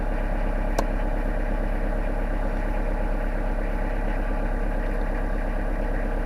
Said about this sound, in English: we'll get the engine running, and we'll see what the batteries are then